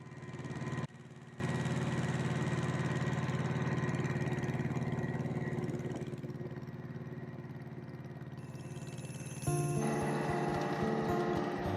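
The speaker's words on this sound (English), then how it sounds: "Wow, that little tractor is 50 years old this year" A small 1975 tractor engine runs steadily with a low, chugging mechanical drone, close and constant, dipping briefly near the start before the throttle picks up and the pitch shifts toward the end.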